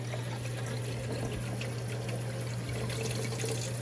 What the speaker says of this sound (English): I'm just gonna set this inside my sink. I'm gonna turn on my water.